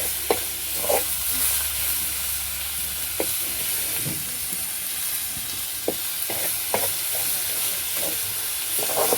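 Tomato being stirred into wet kolim (dried shrimp, acetes) cooking in a pan on a wood-fired stove, with steady frying sizzle and hiss under intermittent scraping taps of a spoon, close and continuous with no talk.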